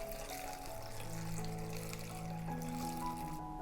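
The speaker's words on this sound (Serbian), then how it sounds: "U šerpu ću sipati 3 litre vode." Three litres of water pouring steadily into a cooking pot holding chopped carrots and peeled apples, a continuous close trickling stream with a low hum running underneath throughout.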